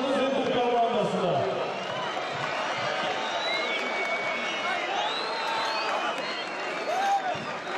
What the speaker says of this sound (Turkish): Alkışlarınız Inter komandasına